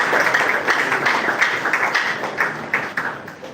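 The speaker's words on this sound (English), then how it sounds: "Let's celebrate him with a clap." A crowd claps steadily for Honorable Asiwaju Moshood Shitu at an NDC aspirant summit, a dense, continuous patter of many hands that holds at an even level throughout.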